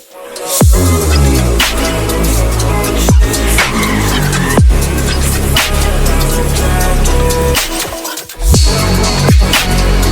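A black BMW M5 G90, the seventh-generation M5, drives hard with a loud, deep engine note that rises and falls through repeated gear changes, revving in sweeping bursts for the full stretch.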